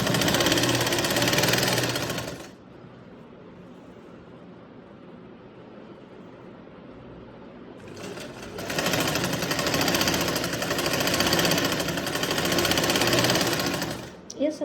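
An electric sewing machine stitching a salwar runs in loud, steady whirring bursts up close, stops for several seconds of quieter room sound with a voice, then starts again and runs on.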